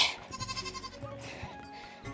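A goat being tied up bleats in a quavering, pulsing call that runs on with brief breaks. It is close by and stands out over rural outdoor background noise.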